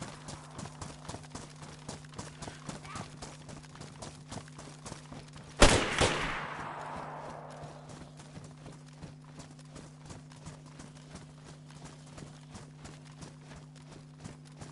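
A single loud gunshot fires in the survival game DayZ and trails off with a short echo. Steady rhythmic footfalls and a low hum continue around it.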